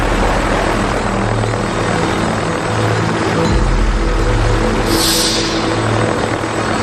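A helicopter hovers above an active volcano in late afternoon, its rotor and engine making a loud, steady, close drone throughout, with a brief brighter hiss near the end.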